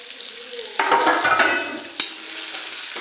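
Eggplant masala stirred and frying in hot oil for stuffed eggplant, a steady close sizzle with scraping stir strokes and a sharp utensil knock partway, no talking.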